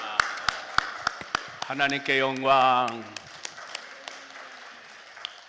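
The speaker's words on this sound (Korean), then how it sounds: "할렐루야로 하나님 앞에 영광의 박수 올려드립니다." A church congregation claps for the pastor at a Korean worship service, with sharp, evenly spaced single claps. A voice calls out briefly in the middle, and then sparser claps return and fade.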